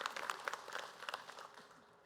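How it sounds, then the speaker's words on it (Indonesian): Studio audience clapping for a guest at an Islamic talk show taping, a dense burst of many hands that peaks early and gradually thins out over two seconds. "Tepuk tangan dong untuk Ibu Nani."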